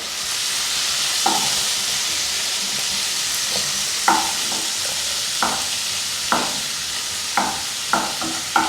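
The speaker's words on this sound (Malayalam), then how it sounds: "ഞാൻ ഇവിടെ 2 ചെറിയ ടൊമാറ്റോ, അത് പഴുത്ത ടൊമാറ്റോ നോക്കി എടുത്തിട്ടുണ്ട്, അത് സോട്ട് ചെയ്തെടുക്കണം നമുക്ക്" Two small ripe tomatoes sautéing in a pan for a quick curry, with a steady close sizzle and repeated scraping stirs of the spoon against the pan.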